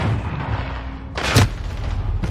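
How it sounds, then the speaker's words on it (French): A single sharp grenade blast in a Call of Duty Modern Warfare match, a short loud burst rising over steady background game noise and rumble. "Frag lancé. Grenade flash lancée."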